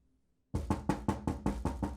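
A series of about eight firm, evenly spaced knocks on a door, loud and close, starting abruptly after a short silence and continuing at a steady rhythm.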